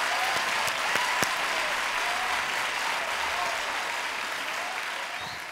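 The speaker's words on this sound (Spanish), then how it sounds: "Fuerte el aplauso." An audience at a live stage show applauds, with steady clapping from a crowd and a few sharper individual claps standing out early on, fading slightly toward the end.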